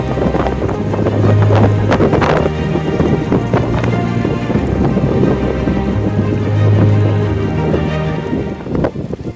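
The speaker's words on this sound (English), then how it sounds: "Nice and windy." Wind gusting hard on a rainy mountain hike in the Pyrenees, a loud, broad rushing roar that swells and eases in waves throughout, with rain pattering and buffeting close to the microphone.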